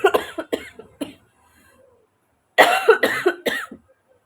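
Bursts of coughing from a woman with a cold: a quick run of three or four harsh coughs, a short quiet pause, then another close, loud cluster of coughs.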